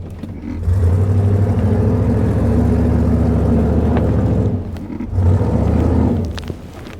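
A truck engine labors steadily as it plows through mud, holding a low droning rumble for several seconds, briefly dropping off, then surging again before fading; the stump strike itself is not distinct.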